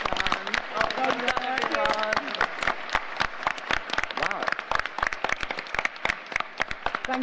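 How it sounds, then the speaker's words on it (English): Audience clapping at the close of a busy student union VP Welfare debate, a steady patter of many hands filling the room for several seconds, with scattered sharper claps standing out and voices murmuring underneath. "Can we have a round of applause?"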